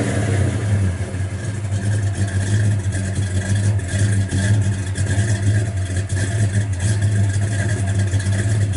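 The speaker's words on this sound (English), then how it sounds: "Sounds really good off the exhaust." A 1971 Pontiac GTO on American Racing Torq Thrust wheels and BFGoodrich tires, its engine rumbling loud and close through the exhaust with a steady deep idle and slight rev swells, no one talking.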